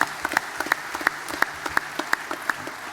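Audience clapping at the grand final of a Young Farmer of the Year contest: a sparse, near round of applause in which a few distinct sharp claps stand out at a fairly regular rhythm against softer background hands.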